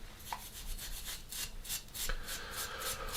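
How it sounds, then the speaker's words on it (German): A carved wooden Kurrende figure has its carved edges rubbed and sanded by hand in a steady run of close, dry scraping strokes, with no talking. "das schleift auch gleichzeitig so ein bisschen die Kanten an, wie man hier sieht, diese geschnitzten Kanten"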